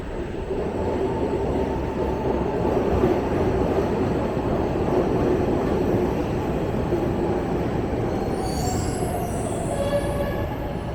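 An underground Philadelphia subway train rumbles along with a dense, continuous roar of wheels on track, and high metallic squeals rise near the end.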